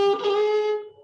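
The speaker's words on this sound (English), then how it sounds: "you would do a tap on a nearby note" A single sustained plucked string note in Carnatic style rings clearly, with a quick gamaka tap on a nearby note near the start, then decays softly over about a second.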